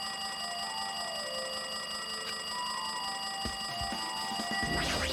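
In-game telephone ringing from Danganronpa 2: Goodbye Despair, a persistent tone sitting under steady music, with a few sharp hits and a rising sweep toward the end and no speech.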